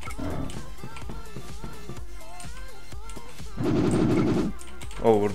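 Gunfire in a video game, rapid machine-gun style bursts and single shots over continuous game sound, with an excited voice talking throughout.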